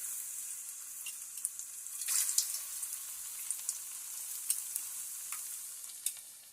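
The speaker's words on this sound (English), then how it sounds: "So I'm gonna go ahead and actually start placing my plantain in the center." Plantain slices fry in oil in a non-stick pan, giving a steady soft sizzle with occasional pops and brief louder crackles as pieces are placed, heard alone without talking.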